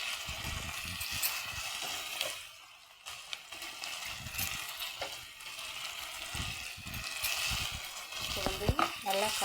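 Onions with freshly added tomatoes sizzle and fry steadily in a pan for mutton kudal, with stirring scrapes and soft clatter throughout and faint voice-like sounds near the end.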